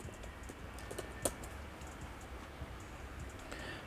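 Fingers typing facebook.com into a web browser on a computer keyboard, a quiet run of soft, quick key clicks with one sharper tap, heard alone without speech.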